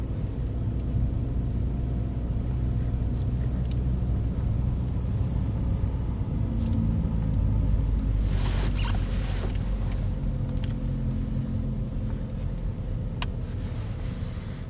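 A car engine idles and runs steadily as a child learns to drive a manual transmission, a constant low rumble with faint wind noise throughout.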